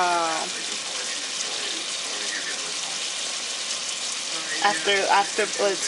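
Steady crackling sizzle of food frying in a pot, continuous and close, with a voice speaking briefly at the start and again near the end.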